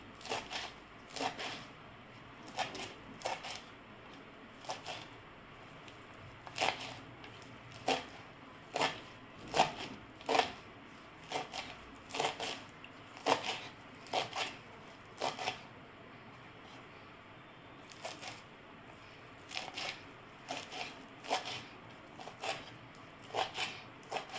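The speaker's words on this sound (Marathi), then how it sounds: "तर ही मेथी आता बारीक करून कापून घ्यायची" A knife chops fresh fenugreek (methi) leaves finely on a board, making crisp, quiet taps in quick runs with brief pauses, steady throughout.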